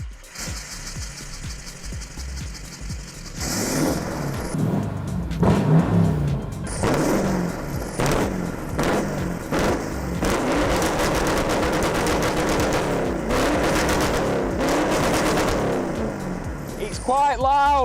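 Straight-through exhaust 4.2 V8 diesel cranking into life, then revving hard in repeated loud bursts that rise and fall, with voices and background noise around it throughout.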